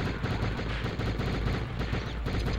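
Dense, rapid gunfire from two guns fired at once in a video game, a continuous loud rattle of overlapping shots lasting the whole stretch with no pauses.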